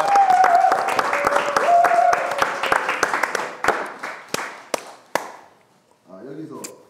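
A crowd applauds loudly, the clapping thinning into scattered claps and dying away, followed briefly by a voice.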